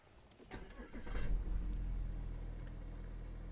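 A 2013 Audi A6 engine starts and settles into a steady low idle hum, fairly close, with a brief louder surge at the start.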